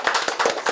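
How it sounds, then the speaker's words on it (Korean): An audience claps together at a forum gathering, a short burst of rapid, dense hand claps close to the microphone with no talk. "자, 이 대목에서 박수 쳐야 됩니다."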